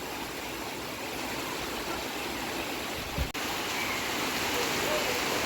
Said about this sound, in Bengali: মুসুলধারে বৃষ্টি তো নিচের ছাদে চলে এসেছি